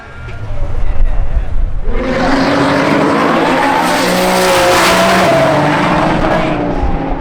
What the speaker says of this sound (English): Carlos in the R8 out of Miami